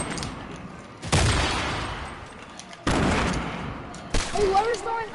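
Hand cannon gunfire in the Fortnite video game, three loud, sharp blasts spaced a couple of seconds apart, each decaying into a long echoing tail, with faint in-game sounds between them.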